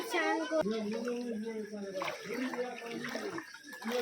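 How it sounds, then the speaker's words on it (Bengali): Floodwater streams along a submerged village road as a steady, broad wash of flowing water that runs throughout, with a person talking continuously over it. "চারিদিকে জল একদম ভেসে যাচ্ছে"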